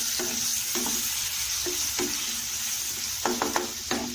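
Ripe mango pieces and chilies fry in hot ghee while being stirred, with a constant sizzle and a series of distinct scraping strokes, a few coming in a quick cluster near the end.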